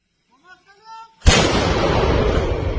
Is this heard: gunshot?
yes